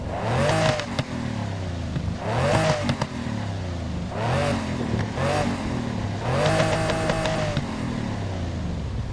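A deep, grumbling V12 car engine in Need for Speed revs up and eases off several times in steady waves, with crackling at the peaks, loud and close.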